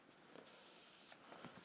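Spray paint hits a stencil in one short, close hiss lasting well under a second, with quiet room sound before and after and no voices.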